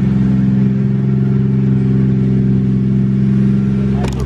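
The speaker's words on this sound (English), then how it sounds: "Cold start, like around 1300 RPMs." A Nissan R34 Skyline's engine idles in a steady, loud, low drone just after a cold start at around 1300 rpm, heard close up and without talk, with a brief clatter near the end.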